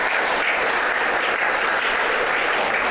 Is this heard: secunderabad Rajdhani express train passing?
no